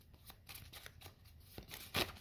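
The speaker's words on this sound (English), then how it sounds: "We're gonna shuffle real quick." A brand-new deck of playing cards is shuffled, giving a quiet run of soft riffling flicks and taps with a brief louder burst near the end, close by and without talk.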